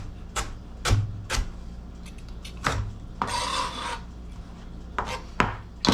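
A knife chops galangal into big chunks on a board with irregular, close thuds and knocks, mixed with a scraping rub partway through; no one speaks.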